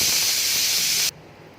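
A pressure cooker of sambar vents steam in a loud, steady hiss that stops abruptly after about a second, leaving only faint background noise.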